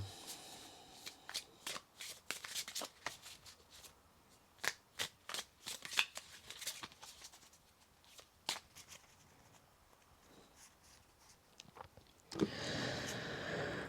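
Tarot cards are shuffled and drawn by hand as a string of quick, crisp riffles and soft flicks, close and fairly quiet, ending in a longer continuous shuffle.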